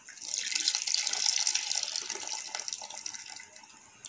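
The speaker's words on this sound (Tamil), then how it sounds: "அதுக்குள்ளேயே நான் இந்த புளி தண்ணி வந்து இதில் சேர்த்துடலாம்" Tamarind water pours steadily into a cooking pot for a few seconds, a close splashing stream that tapers off near the end, with no talking.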